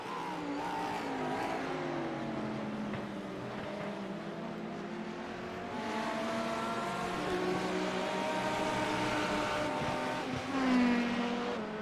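LMP2-class prototype race cars lap Virginia International Raceway in a racing video game, their engines droning and shifting pitch steadily as they accelerate and pass, with a continuous, moderately loud mechanical whine throughout.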